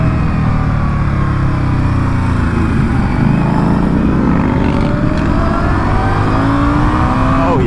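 A 2022 Indian Scout Bobber motorcycle accelerates hard, its loud, continuous engine note rising steadily in pitch close to the microphone with no talk over it.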